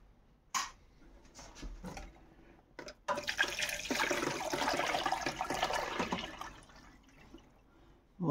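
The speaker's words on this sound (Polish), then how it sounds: "Zalewam to wszystko wodą." Water gushes from a tap over glass jars sitting in a cooking pot, a steady close rush lasting several seconds after a few knocks and clinks, then tapering off.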